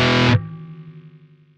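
Loud distorted electric guitar chord played through an MXR Smart Gate noise gate, chopped off abruptly after a third of a second, leaving only a faint low ringing hum decaying with a slight wobble.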